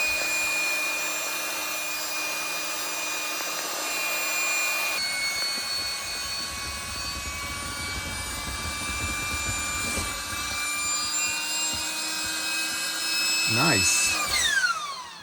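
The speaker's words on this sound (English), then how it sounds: "Now you can kind of hear the pump" An electric pump inflates a LUNO air mattress inside a Sprinter van with a steady whining hum that shifts tone as the mattress fills, and people talk quietly over it.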